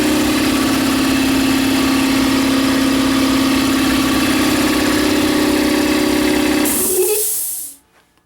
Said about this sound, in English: She's not the quietest thing in the world. I'd much rather a lower speed compressor